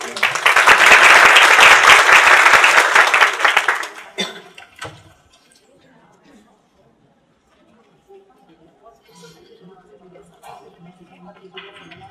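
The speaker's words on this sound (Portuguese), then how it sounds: "Palmas para a professora." A crowd applauds loudly for about four seconds to welcome a lecturer, then the clapping stops abruptly, leaving a quiet room with faint shuffling and distant murmurs.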